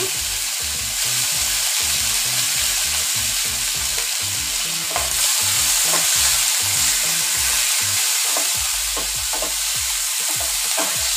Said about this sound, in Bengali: কেটে রাখা ফুলকপিগুলোকে ভেজে নিব। অল্প হলুদ আর লবণ দিয়ে দেব।